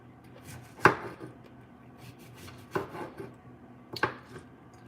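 A knife chops through butternut squash on a board in three sharp, separate strikes about a second or more apart, close by and fairly quiet in an otherwise still kitchen.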